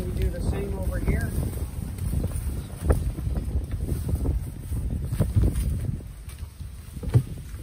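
Gusty wind buffets the microphone outdoors with low rumbling bursts, and a person talks intermittently beneath it.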